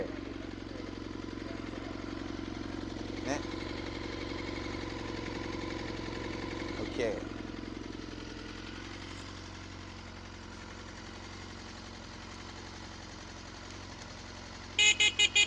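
A Honda CB1 400cc motorcycle idles steadily and fairly close by, its low engine rumble holding even throughout, with a couple of brief knocks along the way, faint speech, and a few sharp clicks right at the end.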